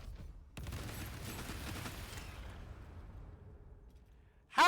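Fatal Barrage gunfire attack from Baldur's Gate III: a sudden volley of rapid shots starts after a short pause and tails off into a fading rumble, then a sharp bright hit lands at the end.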